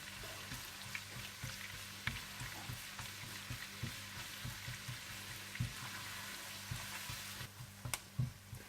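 Julienned ginger fries in a pan for ginger chicken, giving a steady crackling sizzle with irregular soft stirring taps that grow busier toward the end.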